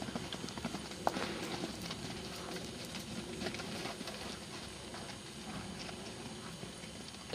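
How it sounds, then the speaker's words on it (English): A horse trotting in a summer outdoor setting, hooves clip-clopping in a steady rhythm at moderate distance, with faint background noise throughout. "Trot."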